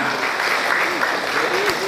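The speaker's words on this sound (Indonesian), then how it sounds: "Tepuk untuk PT Arminareka Perdana." Audience at an Umrah travel seminar applauding, a dense, steady wash of clapping close by and continuing throughout.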